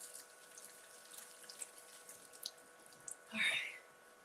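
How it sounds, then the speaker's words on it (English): Water from a kitchen tap runs over an onion being rinsed, a soft steady flow with a brief louder splash near the end, fairly faint and without talk. "Let me just give this a rinse."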